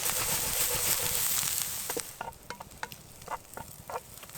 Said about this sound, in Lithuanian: tenais dabar kepa svogūnai, česnakai ir dešrainių bandelės